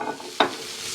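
Salmon cooking in butter in a pan gives a low, steady sizzle, broken by one sharp scrape or clatter near the midpoint, close and alone with no voices.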